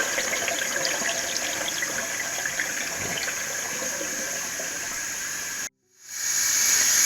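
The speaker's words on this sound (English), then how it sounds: "You just pour that out again." Hot water is poured out of a pot of parboiled rice as a steady, hissing, splashing pour that runs for several seconds, then cuts off abruptly before a faint hiss returns.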